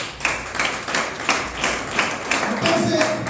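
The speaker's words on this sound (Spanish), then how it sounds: "Ahora sí, un aplauso al Señor en esta noche." A church congregation claps at an evening service, rhythmic group clapping roughly twice per second, with voices joining in toward the end.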